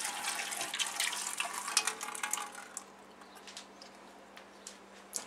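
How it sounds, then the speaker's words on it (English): Hot water pours into a pressure canner while turnip greens are being canned, a continuous close splashing rush that eases into a quieter trickle, with a steady low hum underneath. "Pour the hot water into the canner here."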